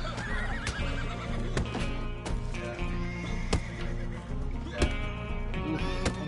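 Horse neighing in a video game, a loud whinny with rising and falling tones, accompanied by clip-clopping hooves and sharp game sound effects.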